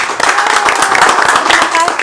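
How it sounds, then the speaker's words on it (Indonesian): An audience claps at a promotional event for the film Para Prasub, a quick run of dense hand claps heard alongside a voice talking. "Kita beri tepuk tangan dulu"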